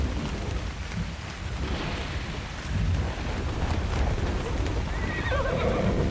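A horse neighs and whinnies in a video game over a continuous rushing background, with hoof movement and a dense wash of ambient noise throughout.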